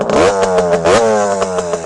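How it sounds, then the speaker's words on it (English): A 1974 Suzuki TM125L Challenger 125cc motorcycle, running factory-style engine internals from a later Suzuki RM, revs up close and loud, its buzzing pitch climbing, dipping and surging again in quick throttle blips. "What a fantastic machine. I absolutely love this bike. It rips. Absolutely rips."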